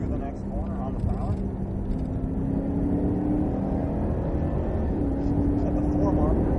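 A Cadillac CTS-V accelerating out of a corner on the Sonoma race track, its engine a steady, loud drone heard from inside the car for several seconds with a rising whine, with someone talking over it.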